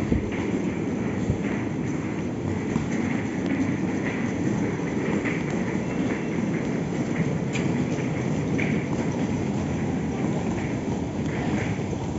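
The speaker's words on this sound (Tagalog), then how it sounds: "nandito na tayo sa may MRT station" Busy Taiwan MRT metro station ambience: a continuous rumble of a moving train with rhythmic clacking, and indistinct murmurs in the background.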